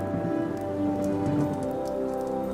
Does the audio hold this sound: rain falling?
yes